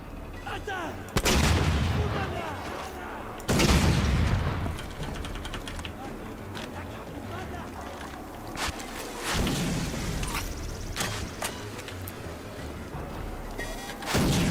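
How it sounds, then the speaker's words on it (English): A rocket launcher fires in a video game, and explosions follow: loud booming bursts stand out, with mechanical clicks and ratcheting between them and game noise going on throughout. "Whoa, long range pop rocket first shot."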